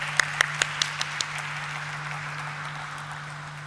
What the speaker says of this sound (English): Let's have a huge round of applause once again for our dignitaries.